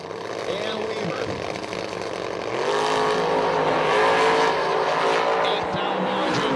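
A drag racing dragster and a door car launch side by side, a loud sustained roar of engines that swells and rises in pitch as they accelerate away, with an announcer talking over it.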